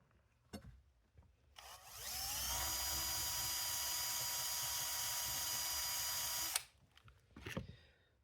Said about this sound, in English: I'm just going to take this drill with this steel brush just to polish up the head